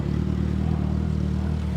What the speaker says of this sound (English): pardon the noise, it's a lot of traffic passing by, but that's a motorcycle in the back.